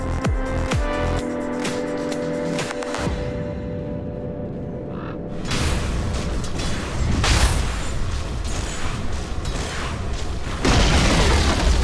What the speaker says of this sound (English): Radiant's bottom tower is under attack.